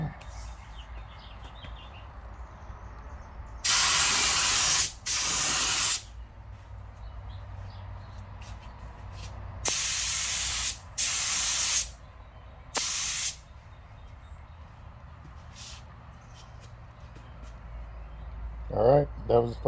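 A paint spray gun at 30 psi shooting clear coat onto car headlights, in five separate hissing bursts of a second or two each, loud and close over a quiet background.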